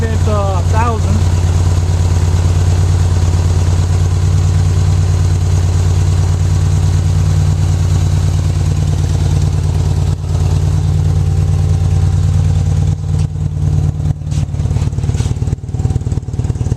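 A steady, low idle from a 1984 Honda Goldwing motorcycle engine with carburetor or fuel issues rumbles continuously and close by at about 1,000 rpm, with a few faint knocks and rattles toward the end.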